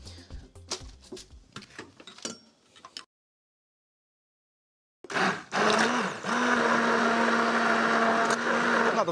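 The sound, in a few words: blender puréeing rice and vegetable soup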